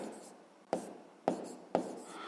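Pen writing a fraction on paper during a math lesson, soft close scratching with three distinct taps of the pen tip striking the page.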